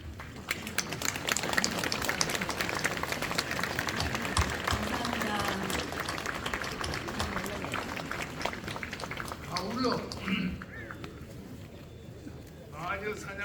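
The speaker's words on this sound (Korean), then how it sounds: "우리 함께 그 노고에 감사드리고 경의를 표하는 뜻으로 기립 박수를 제안합니다" At a memorial ceremony, a crowd rises in a standing ovation, a long, thick wash of clapping that holds steady for several seconds before thinning out near the end, with voices mixed in.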